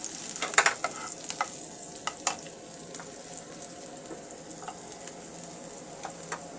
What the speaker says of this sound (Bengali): পেঁয়াজ, শুকনো মরিচ, কাঁচা মরিচটাকে আমি সুন্দর করে ভেজে নেব।